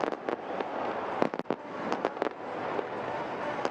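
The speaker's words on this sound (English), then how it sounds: "Fireworks go off, making it a fantastic sound." Fireworks burst at a BPL 2026 Qualifier 1 cricket match between Chattogram Royals and Rajshahi Warriors, a steady crackling roar punctuated by several sharp, loud bangs in irregular succession.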